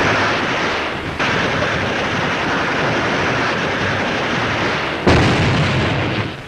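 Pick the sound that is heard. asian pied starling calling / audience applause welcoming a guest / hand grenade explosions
hand grenade explosions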